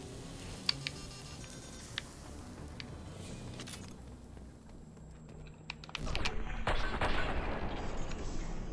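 A weapon fires in the sci-fi game Midnight in Space: faint, scattered sharp shots at first, then a louder burst of dense, rapid blasts near the end.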